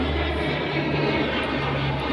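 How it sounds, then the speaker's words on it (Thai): An airplane passes overhead near an airport on a rooftop, a steady broad engine roar with a low drone holding throughout, loud and continuous with no talking. "เครื่องบินบินผ่านนะพี่น้อง"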